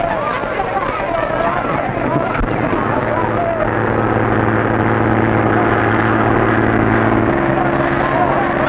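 A plane engine drones steadily throughout in flight, a constant broadband roar with low harmonic hum, loud and continuous, while voices speak over it.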